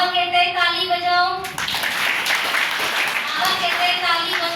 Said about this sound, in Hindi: बाबा कहता है ताली बजाओ।